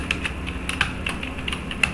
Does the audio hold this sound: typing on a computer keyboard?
yes